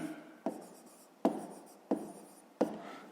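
Numbers being handwritten on paper: four short scratchy strokes, each starting with a tap and fading, spaced under a second apart, close and quiet, with no talk.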